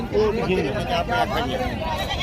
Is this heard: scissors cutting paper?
no